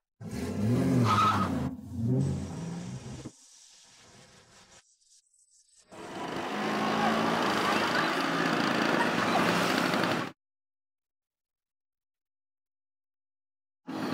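A car engine roars loudly with skidding tyres during a street chase, in two long bursts separated by a short quieter gap, then silence.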